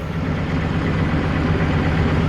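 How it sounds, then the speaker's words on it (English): A Mazdaspeed3 engine runs steadily with a loud, continuous mechanical drone and rattle from the engine bay, consistent with a failing VVT, heard close with no talking. "Under the engine bay sounds way more louder than it should be"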